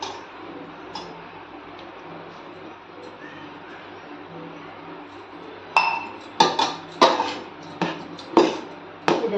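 Lemon juice is stirred into hot cooked rice for lemon rice. After a quiet start there is a run of sharp metallic clinks from a spoon hitting the pot, spaced irregularly and close by.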